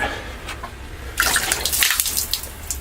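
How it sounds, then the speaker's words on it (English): After a quiet start, water splashes and gushes loudly onto a hard surface, a rushing spatter that continues to the end. "I'm just going to splash the unit"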